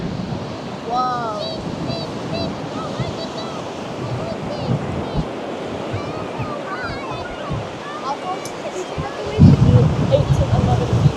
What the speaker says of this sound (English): Look at those waves over there,